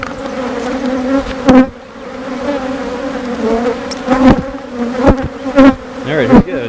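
Honey bees buzz steadily around an open hive during queen marking, a close, dense hum with individual bees swelling loudly past the listener now and then.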